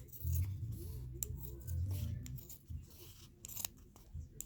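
Scissors snip through leather while a watch band is cut out, with several close, crisp cuts in an uneven rhythm and brief pauses between them.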